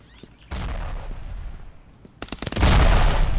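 Frag grenade detonating in the game Ravenfield amid gunfire, with sharp close bursts early on, then a loud sustained blast and rumble near the end, no talk.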